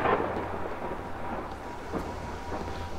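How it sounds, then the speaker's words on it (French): Rumbling thunderstorm in the horror game Kraven Manor, with an initial louder crack fading into low rolling thunder and faint rain, moderately loud, with no talking. "Il y a de l'orage"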